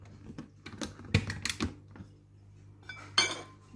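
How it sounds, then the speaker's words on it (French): A Compact Cook Pro food processor chopping garlic, parsley and shallots gives brief uneven bursts of rattling, clattering blade noise, with a sharper burst near the end. "Ensuite, je vais rajouter les échalotes. Donc, je vais hacher une seconde fois."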